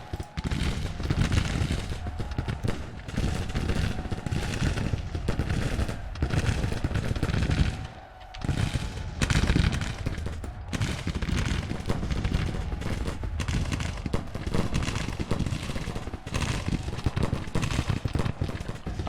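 Dense Civil War musket and cannon fire from a large 50,000-versus-50,000 battle at Washington in the Grand Tactician strategy game, continuous crackling volleys and booms with a brief lull near the middle, loud throughout.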